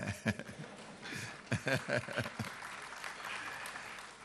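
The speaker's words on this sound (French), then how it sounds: "c'est les étrangers qui nous applaudissent sur ça" Audience applause at the CGECI Academy 2016 business conference: a sustained wash of clapping from a crowd, fairly close, with a voice speaking over it throughout.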